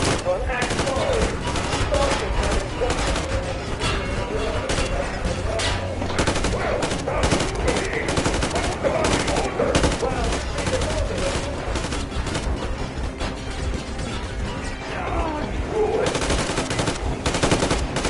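Heavy automatic gunfire in the video game Metro Exodus, dense rapid bursts of machine-gun fire with scattered louder shots running nonstop and close, with occasional voices shouting underneath.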